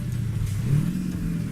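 In a trucking game, a heavy truck engine revs on a missed gear shift: a close, steady low droning roar that swells briefly, with no speech.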